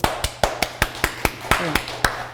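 Church congregation clapping for their accompanist at a Friday worship gathering, about a dozen sharp, evenly spaced claps in a quick steady rhythm, close and clear with a faint voice briefly underneath.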